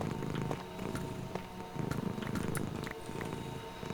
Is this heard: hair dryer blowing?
no